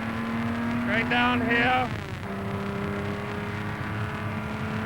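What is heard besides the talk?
race car driving on Mulsanne Straight at Le Mans 1956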